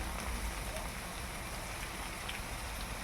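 Pangas fish and new potatoes fry in a pan, giving a steady, dense sizzle and crackle close by that holds without a break.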